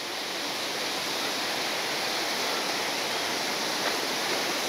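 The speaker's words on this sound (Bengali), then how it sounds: "আর ঝর্ণাটা দেখুন, এই দেখুন," A waterfall at Ramdhura in offbeat North Bengal, swollen after heavy overnight rain, gives a steady, dense roaring rush that stays constant throughout with no voices.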